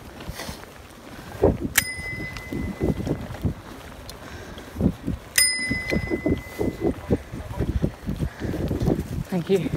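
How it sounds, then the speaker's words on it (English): A bicycle bell rings twice on a bumpy mountain bike cross-country trail, two bright metallic dings several seconds apart, heard over rattling ride noise, wind buffeting and a rider's talk. "Gotta ring my bell."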